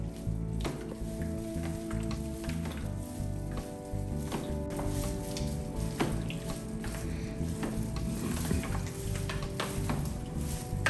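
Creamy cheese fruit salad being mixed in a bowl, a steady wet squishing and stirring texture that continues for about eleven seconds, close and moderately loud with no talk.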